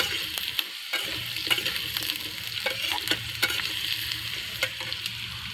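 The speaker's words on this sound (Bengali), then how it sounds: "এর সঙ্গে দিয়েছি কাঁচা লঙ্কা একটা, দুটো তেজপাতা, এলাচ, লবঙ্গ সব দিয়ে দিচ্ছি।" A green chilli, two bay leaves, cardamom and cloves sizzle in hot oil with a steady, close frying hiss, broken by light stirring clicks.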